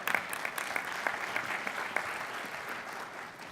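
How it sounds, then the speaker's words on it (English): Audience at a US Conference of Mayors annual luncheon in Dallas claps warmly, a dense, steady round of applause from a seated crowd that carries through without speech. "we can clap for that"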